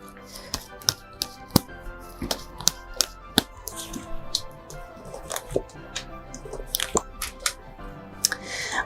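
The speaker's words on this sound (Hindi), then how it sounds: "आइए निकालते हैं 3 कार्ड्स।" Three tarot cards drawn and laid down one after another for a weekly money reading, giving a run of close, crisp taps, flicks and soft slaps at an irregular pace, with no talk over them.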